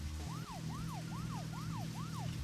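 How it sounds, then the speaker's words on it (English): Police car siren in the video game Deadly Premonition, wailing in five rising-and-falling whoops at a steady, quick rhythm over a constant low engine drone. "So boost is actually the sirens."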